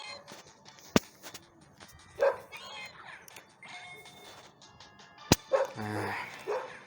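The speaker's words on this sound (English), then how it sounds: "Don't know what I've done to upset some dogs here" Dogs bark outdoors during a Pokémon GO walk, with a few sharp barks and yips scattered through a background of street noise and faint bird calls, at moderate distance.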